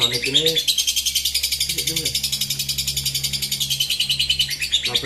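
Sonic lovebird chirping in quick, rhythmic trills that run steadily through the clip, close and fairly loud, with a low hum underneath and short bits of speech near the start.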